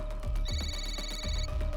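A phone with a shattered screen rings in a brief electronic trill, moderately close, over low rumbling background noise at a campsite.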